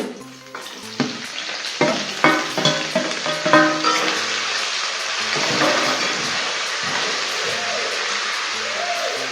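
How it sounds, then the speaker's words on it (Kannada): Two onions and curry leaves drop into hot oil for kadle manoli sukka, several sharp spatters and clatters giving way to a steady, loud, close frying sizzle. "ಇದನ್ನು ಚೆನ್ನಾಗಿ ಫ್ರೈ ಆಗೋಕ್ಕೆ ಬಿಡೋಣ."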